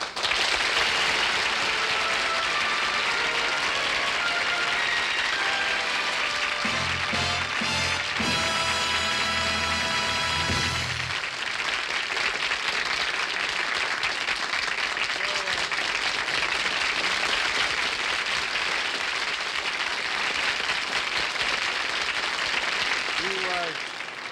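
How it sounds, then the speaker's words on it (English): Loud, sustained applause from a large studio audience fills the whole stretch, with a brief burst of band music partway through, steady and unbroken to the end. "Sure got a lot of applause there"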